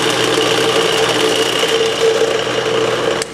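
A filling machine runs with its conveyor and vibration unit switched on, giving a steady, loud mechanical hum with a continuous rattling buzz that holds without a break.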